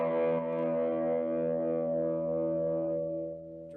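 A guitar pedal in a dark rhythm distortion mode, played as one sustained, heavily distorted chord that rings steadily and thick with a buzzing low end, then fades slightly at the close, with no talking.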